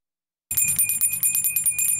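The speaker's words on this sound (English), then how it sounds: "The ringing bells of the Salvation Army's Red Kettle campaign." A Salvation Army Red Kettle handbell rings in the Christmas season, a bright, rapid, steady jingling that starts suddenly and continues loudly and close, with no voices.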